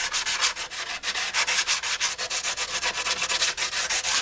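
Rhythmic back-and-forth sanding strokes rasp across carbon fiber composite layers on a Benelli motorcycle fairing under repair, loud and close with no talking.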